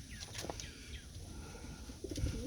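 Homing pigeons cooing inside a loft, with soft repeated low coos and a few chirps close by over a murmuring background.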